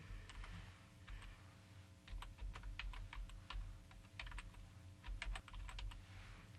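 Bursts of keystrokes on a computer keyboard, quick clustered taps separated by short pauses, close and fairly soft over a low steady hum.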